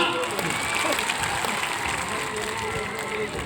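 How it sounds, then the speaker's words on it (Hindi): Audience applause at an Adivasi Day gathering, a dense wash of clapping with faint voices and cheers mixed in, holding steady and easing slightly toward the end. "जोरदार तालियां"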